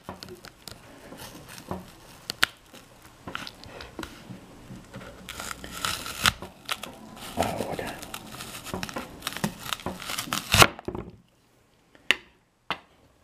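A small, fairly dull kitchen knife slices slowly through an apple, giving close, crisp crunching and crackling bursts that build over several seconds, then a few isolated clicks after a short pause.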